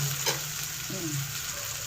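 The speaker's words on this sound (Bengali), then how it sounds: "আলুটা আমি দিয়ে দিচ্ছি সব আস্তে।" Potatoes fry in a pan, a constant close sizzle with soft scraping stirs and a brief knock of the utensil.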